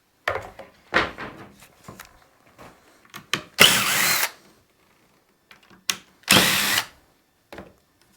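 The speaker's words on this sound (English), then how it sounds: "there are screws going from here into the top rail. So let me go ahead and get these out first." Short bursts of a power drill backing screws out of the top rail of a kitchen cart, close and loud, with two longer whirring runs separated by quiet clatter.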